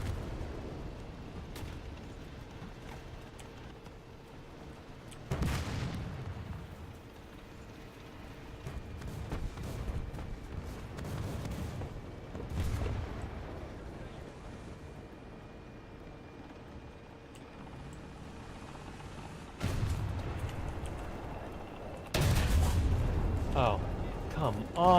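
Heavy gunfire in a video game: three or four loud, booming shots spaced several seconds apart, each with a rumbling tail, over a quieter mechanical hum with a voice talking between them.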